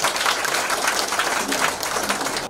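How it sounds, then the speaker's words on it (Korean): Applause from a crowd at a campaign office opening ceremony, close and fairly loud, with dense, steady clapping filling the whole short stretch. "박수 한번 쳐주시죠."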